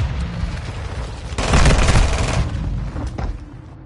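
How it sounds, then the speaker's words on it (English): Gunfire and grenade blasts in a PS4 military shooter game: loud bursts of rapid shots, with a dense, heavy volley in the middle that fades into scattered shots and a last sharp report. "Taking fire over here!"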